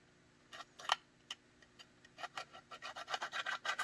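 Knife handle edges being filed or rubbed clean before riveting, a series of short rasping strokes that start sparse and quiet, then quicken into a steady, closer back-and-forth rhythm.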